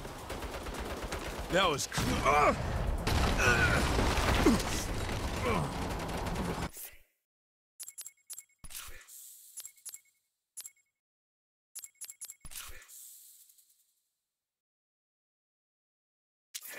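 Turret gunfire in the video game Saints Row: heavy rattling gunfire and clinking under shouted talk, then several short separate bursts of shots with silent gaps between them.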